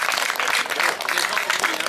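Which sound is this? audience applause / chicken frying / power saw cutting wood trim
audience applause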